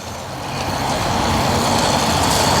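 A cheap, tiny Toyota drives at part throttle, its engine giving a steady, loud drone that builds slightly and is joined by road and wind noise, with no talking.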